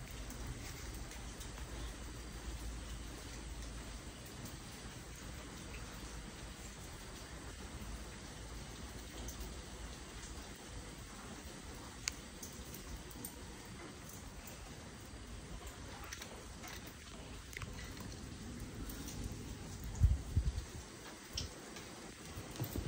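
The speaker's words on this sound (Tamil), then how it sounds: "மழை வந்து கோட்டிக்கொண்டே இருக்கிறது." Steady rain falls outdoors before dawn, a soft continuous patter with faint ticking drops, a few louder knocks near the end, and no voices.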